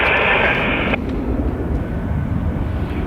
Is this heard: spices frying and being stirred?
no